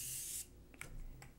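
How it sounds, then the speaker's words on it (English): Makeup setting spray hisses out in one short, close burst, followed by a few faint taps and rustles as the bottle is handled. "spray one more time for good luck because I really love this stuff"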